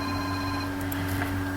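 A telephone rings during a recorded university class session, with a steady tonal ring over low electrical hum and a faint, busy background, with no voices.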